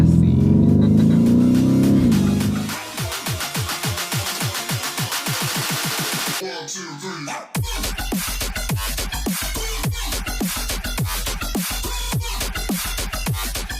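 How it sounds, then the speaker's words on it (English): A Lamborghini Urus SUV drives and spins donuts in Calabasas, its engine surging and revving loudly with a sharp rising note early on, then a steady rapid pulsing roar that carries on after a brief break. "Okay, let's do a little turn. Doing donuts in the Calabasas."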